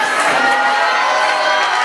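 A live audience at a civic stage event cheers and applauds as a woman is welcomed on stage, a dense steady wash of crowd noise and clapping throughout.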